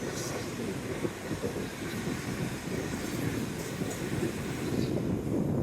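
A train rumbles past on a busy seafront with a steady, broad roar of rolling noise, fairly loud and continuous throughout, with no voices.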